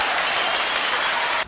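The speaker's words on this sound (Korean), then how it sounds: "일단 우리 한번 박수 한번 치도록 하겠습니다." Middle school first-year students clap together during a career class, a dense, loud burst of applause that fills the moment and then cuts off abruptly.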